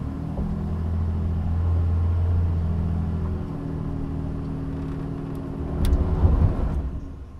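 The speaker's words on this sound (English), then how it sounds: "the dirt is very loose and sandy, so you can see there's some slippage with the tires, even with the all-terrain tires" A 2023 Nissan Frontier PRO-4X mid-size pickup on all-terrain tires crawls off-road over loose, sandy dirt, its engine a steady low rumble that swells briefly near the end, with no speech.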